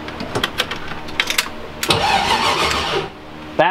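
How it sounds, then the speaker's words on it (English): A BMW engine is cranked by its starter, first in short uneven bursts of clicking and whirring, then a steady loud churning crank for about a second before cutting off, close up. "That turned the engine over right there."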